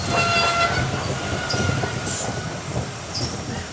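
Train sound for a steam tank engine puffing into a station: a continuous rolling rumble with a steady tone and brief hissing bursts, loud and close throughout, no voices.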